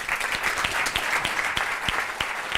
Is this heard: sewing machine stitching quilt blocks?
no